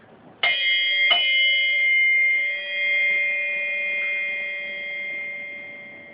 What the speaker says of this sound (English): The toll of the ship's bell reminds us of the reverence we owe to our departed shipmates.